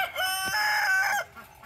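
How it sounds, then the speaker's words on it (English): A rooster crows once, loud and close, a strained drawn-out call that breaks off abruptly. "I apologize for the rooster. He's a little bit noisy."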